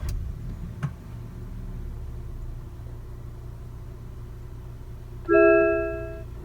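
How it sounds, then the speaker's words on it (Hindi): A 2021 MG HS Trophy SUV engine starts: after a faint click of the start-stop button it rumbles low and steady, then surges into a louder, rising roar near the end. "अब हम इसके इंजन को स्टार्ट कर लेते हैं।"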